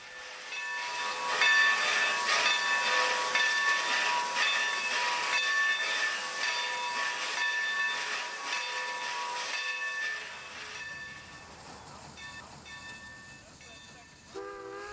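A steam locomotive on the Texas State Railroad hisses loudly and continuously while it is turned, the steam fading to a softer rumble toward the end, where a brief squeal cuts in.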